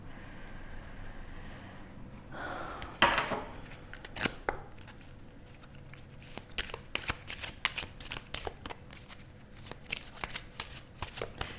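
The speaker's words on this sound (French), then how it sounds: "Est-ce que je peux vous tirer une autre carte?" Tarot-style cards being shuffled and drawn, a quick riffle followed by a string of crisp card snaps and slides at irregular intervals, close and moderately quiet, with soft breathing between.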